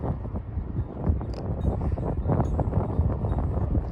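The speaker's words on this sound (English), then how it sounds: "This wind." A strong windstorm roars in gusty, rumbling waves against the microphone, loud and steady throughout with rustling buffeting and no speech.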